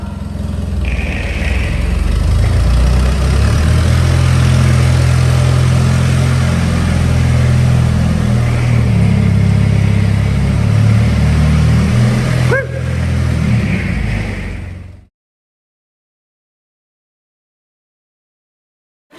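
Honda Civic FN2 Type R with an Ecutek map, engine running loud and close with a steady rumbling drone and a brief pop near the end before cutting off abruptly.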